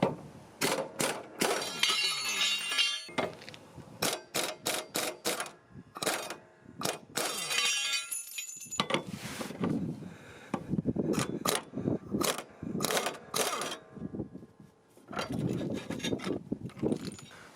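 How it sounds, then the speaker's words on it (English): An impact wrench fitted with a 30mm impact socket rattles mower blade bolts loose on a Kubota ZD1211 zero-turn mower, loud, sharp bursts of hammering separated by short pauses, repeated many times and heard alone without speech. "Now you want to get an impact wrench with a 30mm impact socket."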